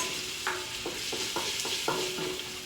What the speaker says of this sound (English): Just make sure you're tossing your onions